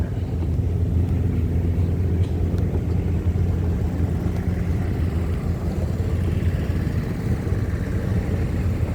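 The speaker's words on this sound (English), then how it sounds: "it looks like a 57 Chevy with the monster tires" A 1957 Chevy on monster tires drives past at a steam engine threshers reunion, its engine a loud, steady low rumble that holds for the whole stretch with no talk over it.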